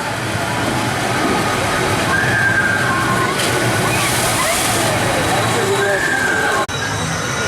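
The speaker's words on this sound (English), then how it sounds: "So I've just had a ride on river rafts." Water rushing and splashing on the River Rafts ride at Chessington World of Adventures, a loud continuous churning wash that fills the whole clip, with a voice audible over it.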